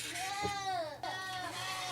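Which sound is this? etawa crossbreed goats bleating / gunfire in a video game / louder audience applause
etawa crossbreed goats bleating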